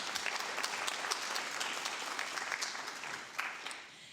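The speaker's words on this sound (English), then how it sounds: "Can we get a round of applause for these incredible co-sponsors?" Steady audience applause at a League of Women Voters mayoral candidate forum in Bloomington, 2023, honouring the co-sponsors. The clapping is dense and sustained at close-to-mid distance, then tapers near the end, with no talk over it.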